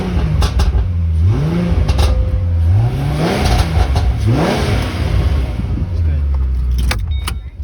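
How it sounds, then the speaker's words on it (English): A 2007 Ford Mustang V6 fitted with a throttle body spacer revs up several times, its engine pitch climbing and falling in repeated rising sweeps over a steady idle rumble, fairly loud and close. "Let's go give it a couple of revs."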